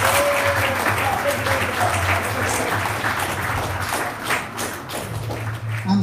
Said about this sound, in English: All those who are confused, can you just clap, give a lot of big hands?